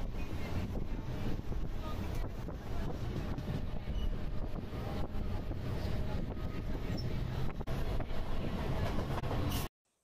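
A local train bound for Panvel runs with a loud, steady rumble and rattle of the carriages, heard from on board. Wind buffets the microphone throughout, and the sound cuts off abruptly at the end.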